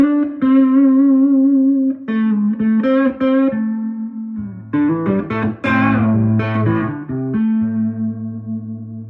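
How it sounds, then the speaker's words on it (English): An electric guitar plays sustained notes and short riffs through a Donner Triple Threat distortion pedal, a gritty, overdriven tone with some echo, loud and alone. "But a distortion, I don't usually have much use for it, distortion."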